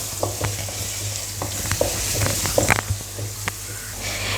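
Green chili fries in a pan for a chicken curry with a continuous close sizzle, broken by occasional stirring scrapes and small pops over a steady low hum.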